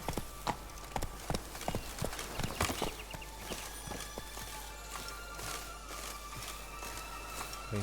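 The horse Roach in The Witcher 3, rhythmic hoofbeat clip-clops, quick at first and then settling into a faster, lighter patter, close and moderately loud over a low hum.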